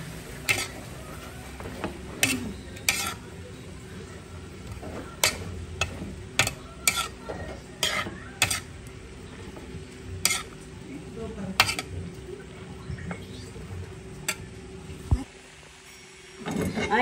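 A utensil scrapes and clacks against a pan while stirring bitter melon and eggplant, giving irregular sharp knocks over a soft background sizzle, with a brief pause near the end.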